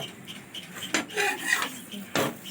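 Aloo paratha is flipped and cooked on a pan, with a few quick metallic scrapes and clinks of a spatula against the pan over a faint background hiss.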